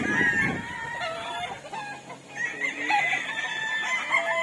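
Roosters crowing and chickens clucking on a gamefowl farm, several birds calling in overlapping bursts at close to moderate distance, with no talk.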